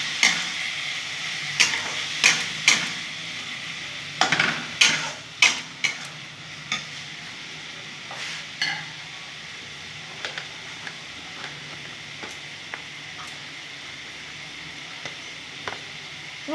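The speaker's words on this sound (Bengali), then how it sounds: "ভালো করে ভেজে নেব মুগ ডালটার সাথে। জিরা কাঁচা লঙ্কাগুলো দিয়ে দিলাম।" Moong dal frying in a pan with cumin seeds and green chillies, a steady hiss of sizzling oil broken by repeated scraping taps of a spatula stirring, loud at first and thinning out toward the end.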